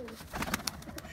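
Domestic pigeons coo softly in a loft, a brief murmuring call with a few soft bursts, heard alone at moderate distance.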